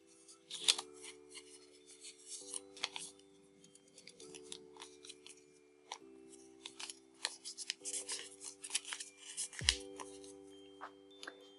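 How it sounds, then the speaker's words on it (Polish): Paper being creased and folded by hand for an origami star bowl, with crisp rustling, scraping and sharp flicks in quick, irregular bursts close to the listener, no talking. "chwytam sobie za górę i składam na dół"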